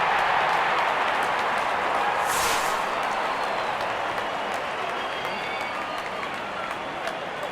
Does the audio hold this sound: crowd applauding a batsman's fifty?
yes